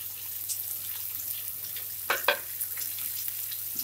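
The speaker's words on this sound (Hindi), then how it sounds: "अब इसे अच्छा से फ्राई करना है।" Chopped onion, cumin and fennel seeds fry in a pan, a soft steady sizzle with a couple of brief louder stirring scrapes near the middle.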